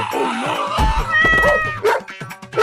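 A small dog yips and barks at close range among cats, with high meows and a caterwaul mixed in, in a rapid, agitated back-and-forth.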